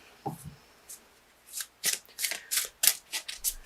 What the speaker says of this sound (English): I'll pull you an oracle card too to clarify and get some additional messages.